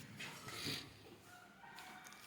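Country chickens cluck and call near an opened coop in the morning, a few short rising squawks over a steady rustling background with no talk.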